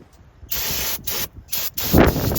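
Aerosol spray can hissing in several bursts of roughly half a second each, close and fairly loud, used on a Subaru Forester during repair work.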